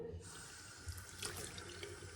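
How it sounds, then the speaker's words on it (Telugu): Tap water runs steadily into a bowl of rice being rinsed at a sink, a faint continuous splashing stream with no talking. "ఒకసారి మనము జస్ట్ వాటర్తో కడిగేసుకుందాం"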